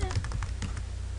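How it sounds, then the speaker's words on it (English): Quick keystrokes tap across a computer keyboard as a web address is entered, a rapid close patter of clicks heard alone. "If I can type correctly."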